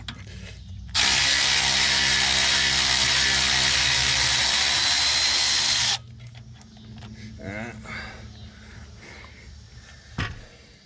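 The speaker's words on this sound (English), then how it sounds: "gonna use power tools." A power tool whirs loudly and steadily for about five seconds, then stops, followed by quieter clanking and handling noises nearby, while fitting a 3-inch suspension lift to a Dodge Ram 2500/3500 pickup.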